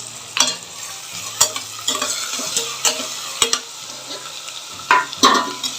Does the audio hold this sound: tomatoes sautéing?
yes